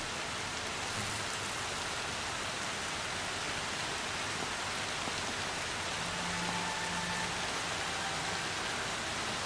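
Steady, dense rain falls throughout a rainy scene in the video game Horizon Zero Dawn, a continuous hissing wash of drops with no voices over it.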